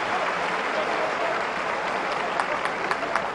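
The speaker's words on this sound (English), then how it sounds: "their supporters, who cheer here as Ryan Tunnicliffe comes off to be replaced by Luke" Luton Town supporters in a football stadium cheer and applaud as a player is substituted, a steady broad wash of crowd clapping and cheering with a few sharper claps near the end.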